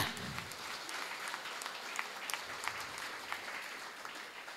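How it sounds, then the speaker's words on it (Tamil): A crowd claps steadily through a Tamil stage event honoring a speaker, the dense patter holding at a moderate, somewhat distant level with no pauses. "நல்லா கைத்தட்டுங்க"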